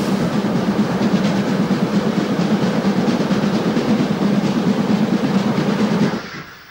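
Steam locomotive 038-382 stands at Freudenstadt station, giving off a loud, steady hiss and rumble close by that cuts off abruptly near the end, with no talking.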